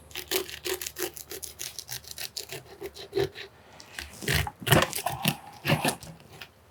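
A serrated knife saws through a bluefin tuna near the fin in quick back-and-forth rasping strokes, close and crisp, with a rhythmic series of cuts that grow heavier toward the end.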